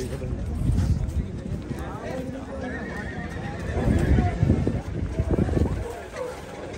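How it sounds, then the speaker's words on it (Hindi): A tall 70-inch horse at a crowded horse market neighs while hooves clip-clop nearby, with people talking throughout. "यह है 70 इंच वाला घोड़ा पटवारी।"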